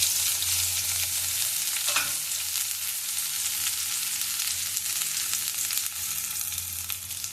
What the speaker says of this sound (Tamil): நெக்ஸ்ட் ஒரு பேனில் ஆயில் விட்டுட்டு கடுகு, கடலைப்பருப்பு நல்லா பொடிஞ்சதுக்கப்புறமா ஆனியன்,